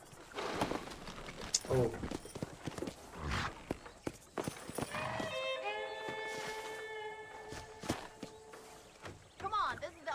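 Horse hooves clip-clop in Red Dead Redemption, with uneven footfalls mixed among character dialogue and a drawn-out whinny-like tone in the middle.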